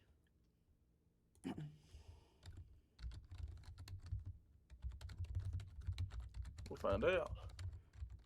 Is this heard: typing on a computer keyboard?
yes